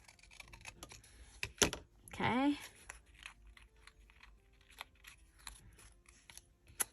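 Scissors snip across a scrap of white cardstock with a few sharp, close cuts and paper crunches, while a voice briefly speaks in the middle.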